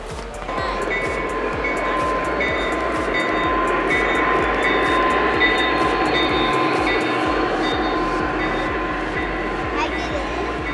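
A train runs at a New Jersey train show featuring NJ Transit and Lionel trains, a steady continuous rumble and clatter with a sustained tone throughout, while people talk over it.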